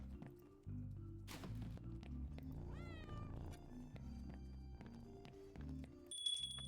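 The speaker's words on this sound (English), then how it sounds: "Hi, kitty." A cat meows once, a short bending cry in the middle of a quiet game scene with low background music and a few soft thuds, faint and close.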